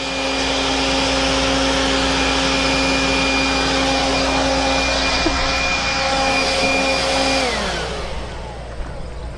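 A Greenworks 40V 150 MPH variable-speed cordless leaf blower runs at a steady loud whine with a strong airy rush, clearing chaff and debris outdoors, then its pitch drops as it winds down near the end.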